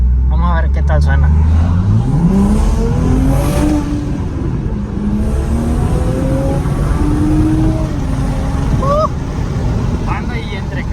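A Toyota Supra MK5 turbo engine with a CTS intake revs up close, its loud tone climbing and then holding at a droning pitch, with brief voices in the background.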